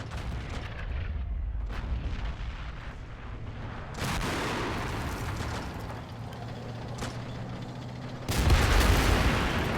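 Artillery barrage in the Army Men: Plastic Wars video game, a steady rumble of booming shots with sharp blasts at intervals and a louder, heavier eruption near the end.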